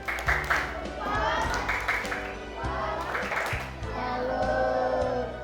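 A classroom of primary pupils gives a group a clapping salute, rhythmic patterned claps in unison with children's voices chanting and calling along, close and fairly loud for about five seconds.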